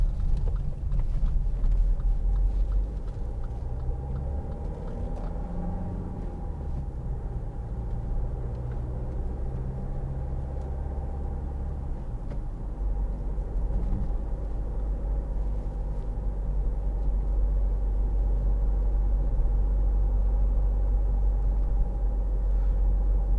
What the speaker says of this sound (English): Just pulling up this hill, 1200 revs, no danger of it stalling.